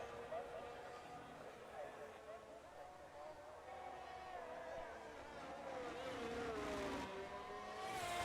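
A race car engine revs and climbs through the gears on a hot lap at the Austin circuit, the pitch rising and falling in long sweeps and growing louder toward the end, with no talk over it.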